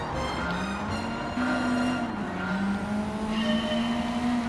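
A Honda Civic with a K24 turbo engine racing in Gran Turismo 7, its engine droning steadily with rising pitch and a gear change, tire noise layered underneath.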